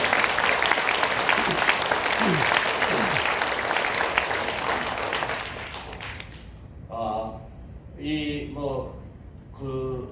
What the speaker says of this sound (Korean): 이럴 때 있어서는 한번 우리 그 역할을 하는 분에 대해서 박수 한번 해주세요.